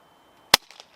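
A single sharp shot from a regulated Umarex Notos .22 PCP air rifle micro-carbine, a loud close crack with a quick decay and faint rattling afterward in an otherwise quiet setting.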